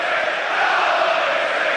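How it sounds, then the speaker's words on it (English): A football crowd at Portman Road roars steadily during an Ipswich Town versus Hull City match, a dense, continuous wash of stadium noise with no distinct voices standing out. "The crowd react well."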